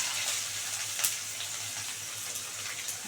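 Chopped onion, a whole large onion, dropped into hot oil with nigella seeds in a pan, giving a steady close bright sizzle and hiss throughout with small crackling pops.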